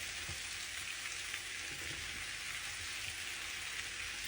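Chopped chili sizzling in a frying pan while cooking spicy devilled potatoes, a steady close crackling hiss with a few faint stirring taps.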